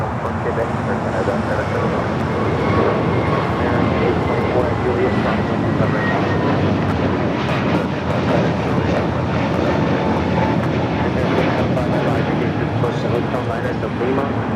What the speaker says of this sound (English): Also just had an Air Canada 737 MAX 8 just touching down here on the south side.